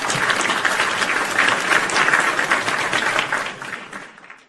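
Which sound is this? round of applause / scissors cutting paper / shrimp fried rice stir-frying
round of applause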